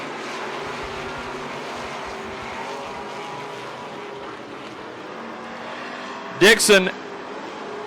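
Hobby stock race cars running under green flag on a speedway, a continuous engine drone under steady commentary, with a sharp loud burst near the end.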